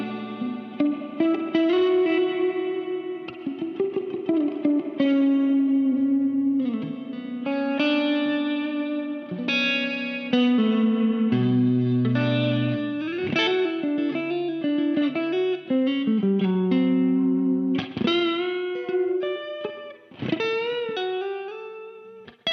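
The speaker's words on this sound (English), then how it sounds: "A longer spring reverb modeled after studio external spring reverb units." A long spring reverb from a Crazy Tube Circuits Mirage pedal, modeled on studio external spring units, wraps a distorted electric guitar as it plays a continuous melodic line with echoing, shimmering tails and no talking.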